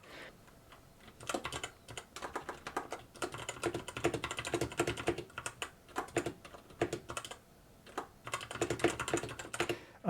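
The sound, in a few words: typing on a mechanical keyboard with brown switches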